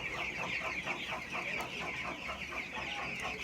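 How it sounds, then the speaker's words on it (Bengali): A crowd of 16-day-old broiler chicks on a poultry farm keeps up a dense, continuous chorus of high cheeping and clucking, close by and without speech. "ব্রয়লার মুরগির বাচ্চা আজকে বয়স 16 দিন।"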